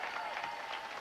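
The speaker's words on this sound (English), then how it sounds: "A big round of applause for them." A studio audience at a family game show applauds after a pearl-diving gunk game, giving a steady, dense wash of clapping that fills the whole short moment without a break.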